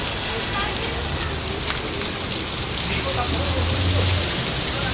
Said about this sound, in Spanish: Ah, está cayendo granizo.